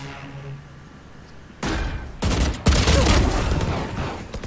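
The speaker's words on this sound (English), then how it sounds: "Reyna with the shotguns." Bursts of shotgun fire in the tactical shooter Valorant during a tournament match, three loud blasts in quick succession that leave a dense, sustained roar of gunfire and effects.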